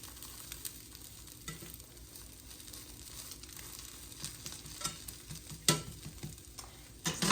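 An omelette frying in a pan as it is flipped, a low steady sizzle with scattered spatula scrapes and taps that grow more frequent toward the end, close up and without speech.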